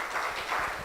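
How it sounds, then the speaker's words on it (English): Audience applause at a health forum in Zanzibar: a brief, dense burst of clapping from a crowd, moderately loud and steady with no talk over it. "I think it deserves a larger round of applause."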